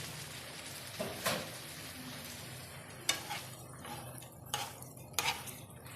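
A spoon scrapes and stirs food in a sizzling pan during village home cooking, in several separate strokes spread across a few seconds over a soft, continuous frying hiss.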